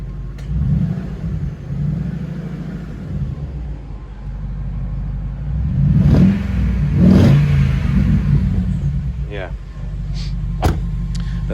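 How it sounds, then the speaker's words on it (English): A supercharged 4.2 V8 engine in a Jaguar S-Type R, heard from inside the car: a smooth, steady low rumble that swells with two brief revs midway, with someone talking at times. "Lovely, lovely engine. So smooth."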